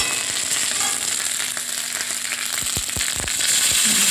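Cauliflower and spices frying in a hot pan, a steady close sizzle with a few sharp crackles and pops toward the end, no voices.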